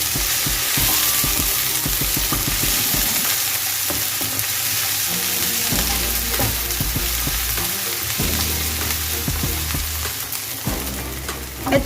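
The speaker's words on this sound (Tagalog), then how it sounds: "let's saute our garlic and scallions" Garlic and scallions sizzle and fry in a hot pan for a bok choy beef stir fry, a steady close hiss with scraping stirring strokes throughout.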